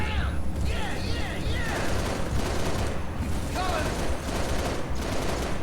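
Continuous gunfire from the shooter Halo: Reach on the New Alexandria level, dense rattling bursts and fusillades with whining sweeps running throughout and loud from start to finish.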